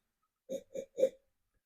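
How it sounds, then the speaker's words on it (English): Three short, quick sniffs of beer taken with the nose held close to the glass, evenly spaced and near, with nothing else heard around them. "I'm going to go right nose in, and then I'm going to take 3 short sniffs."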